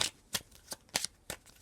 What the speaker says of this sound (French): Alors, je vais continuer à battre les cartes.